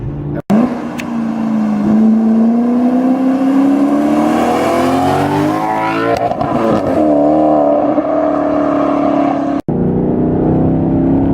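A 2012 Maserati GranTurismo S sounds close and loud from start to finish, its engine revving up and climbing through the gears while driving on the road, broken by two sharp momentary cutoffs.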